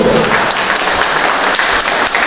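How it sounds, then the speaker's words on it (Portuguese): A crowd at an itinerant community council session breaks into loud, dense applause, a continuous roar of many clapping hands close by, filling the whole brief moment. "um aplauso a toda a comunidade caçadorense, a todo o povo"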